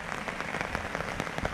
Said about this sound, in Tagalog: Masyadong lumakas yung ulan.